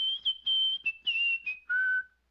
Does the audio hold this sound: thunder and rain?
no